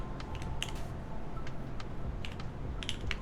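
Clicky mechanical computer keyboard typing, with a quick run of light, irregular keystrokes repeating over steady low background hum.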